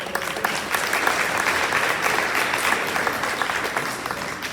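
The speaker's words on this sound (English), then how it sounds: "another round of applause" An audience applauds basketball players being honored at a school board of education meeting, a steady wash of many hands clapping that holds for several seconds at an even level.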